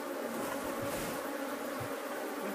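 A honeybee swarm buzzes during a hive inspection while a colony is being split, a dense, steady drone that holds at an even level throughout with no voices.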